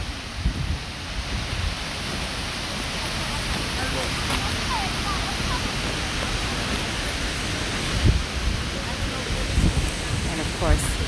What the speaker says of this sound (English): you can walk behind the waterfall